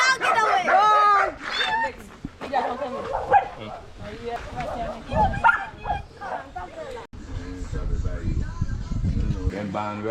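A dog barks and yips repeatedly at close range, short yaps and whimpers scattered through the stretch while someone talks over it, shooing it away during a first visit to a home and kitchen.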